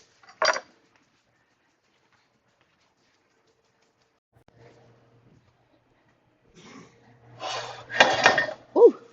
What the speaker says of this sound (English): I'm just going to start filling the pan with some potatoes.